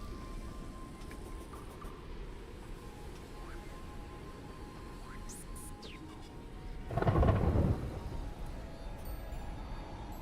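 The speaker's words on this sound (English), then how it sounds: "It's raining." In the video game Terraria, rain hisses steadily while a deep roll of thunder swells up about two-thirds of the way through and fades, with small game blips scattered over it.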